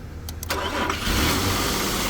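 A Nissan Pathfinder engine cranks with a few quick starter bursts, then catches and settles into a loud, steady idle close by.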